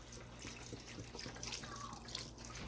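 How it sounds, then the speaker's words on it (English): Broth poured into a pot holding yellow onion, a soft continuous trickle and splash of liquid heard close up and fairly quiet, with no talking. "now I'm going to add the rest of my broth"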